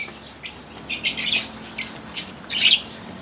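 African lovebirds in an aviary give sharp chirps and brief squawks, scattered in quick clusters at moderate distance.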